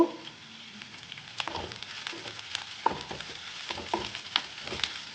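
Curry leaves frying in hot oil in a pan for pepper chicken, a steady close sizzle broken by crackles and the scrape of a stirring spoon, with no voices.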